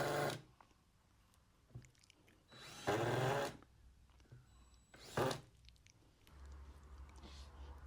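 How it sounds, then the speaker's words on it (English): Power drill driving into a wooden lantern box to join its sides, several short, loud whirring bursts separated by quiet pauses, with handling clatter between them. "Back on the drill. I'm just joining the sides together here."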